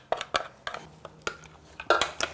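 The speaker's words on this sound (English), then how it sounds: "we're going to transfer this now into a saucepan or frying pan" A sauce mixture of roasted capsicum is moved into a saucepan with a series of sharp metallic clinks and scrapes of utensil against pan, about eight close knocks in quick irregular succession, with no talking.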